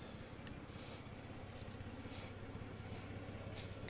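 A car engine idles steadily at close range, a continuous low rumble with no revving, while faint incidental noises come and go on top.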